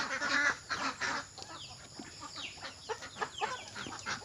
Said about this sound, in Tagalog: Unahin ko lang yung mga alaga kong manok.